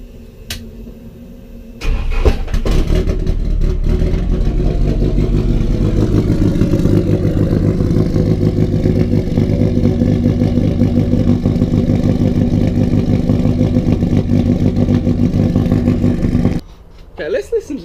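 Rotary engine in a drift-build car starts up and settles into a loud, choppy, lumpy idle that runs steadily for about fifteen seconds before cutting off, with no voices over it.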